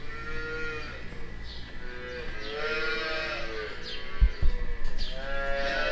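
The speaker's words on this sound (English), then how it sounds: "they're starting to make some noise because they think I'm in here to give them milk" Young calves, from a couple of days to about five weeks old, moo repeatedly in a barn while waiting to be fed milk, several overlapping calls close by with some thumps and rustling.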